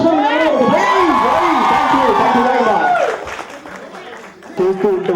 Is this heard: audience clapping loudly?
yes